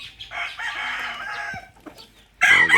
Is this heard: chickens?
yes